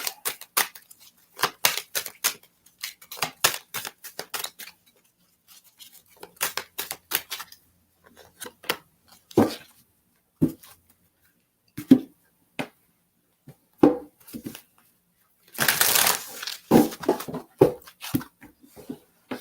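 Quick papery riffles and soft slaps come in irregular bursts as a deck of tarot cards is shuffled nearby, with a louder rustle near the end.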